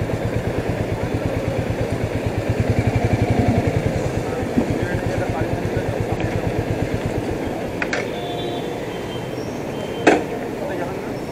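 A Royal Enfield Meteor motorcycle engine idles with a steady, rapid thump while the rider parks in a crowded spot, running close and continuous with a couple of brief sharp clicks near the end.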